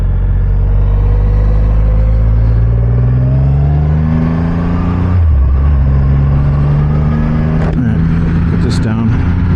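A Triumph Rocket 3 GT power cruiser's engine rumbles deep and loud while riding, its tone rising and dropping through a gear change, with the rider talking over it.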